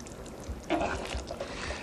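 A spoon stirs thickener into a simmering oxtail stew, giving faint, soft liquid swishes and gentle sloshing near the pot with a quiet background.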